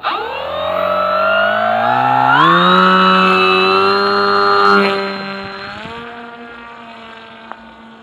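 An RC model airplane's electric motor whines at close range, the pitch rising sharply as it throttles up, holding a loud steady drone, then winding down to a lower hum near the end.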